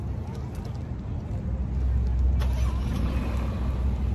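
An Alfa Romeo car pulls away, its engine a steady low rumble that swells slightly as it gets moving, close by and continuous for a few seconds.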